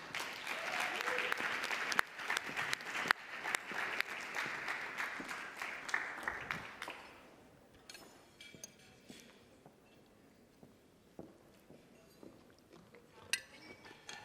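Loud applause from a crowd fills the first half, then fades into scattered claps and quiet room noise.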